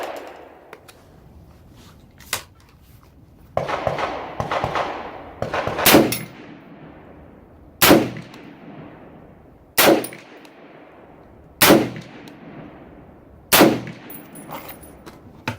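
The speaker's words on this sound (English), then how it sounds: "10 shots." A Palmetto State Armory PA-65 rifle in 6.5 Creedmoor fires a string of loud, sharp shots, about six reports ringing out at a steady pace roughly two seconds apart, with the outdoor echo trailing after each one.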